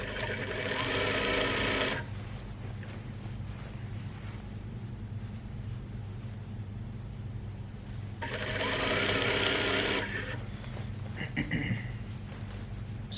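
A sewing machine stitches the side seam of a garment lining in two loud, fast whirring runs separated by a quiet stretch, with a voice speaking softly underneath.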